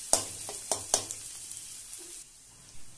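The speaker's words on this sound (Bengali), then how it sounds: "আদা ও রসুনটাকেও পেঁয়াজের সাথে নেড়েচেড়ে নিয়ে 2 মিনিটের জন্য ভেজে নেব।" Ginger garlic paste frying with onion in a pan while being stirred, giving a soft continuous sizzle punctuated by several sharp spoon-on-pan scrapes and knocks early on, quieter toward the end.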